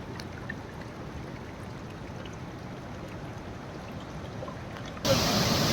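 A swollen, rain-fed village stream rushes in a steady, broadband roar, heard from nearby, and grows louder and brighter near the end as the listener moves closer.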